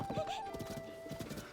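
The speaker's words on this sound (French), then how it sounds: "on a notre premier cheval et il a l'air de plutôt bien nous apprécier" A horse in the video game Zelda Tears of the Kingdom gives a short whinny followed by a quick run of clip-clopping hooves, soft and close against quiet game background.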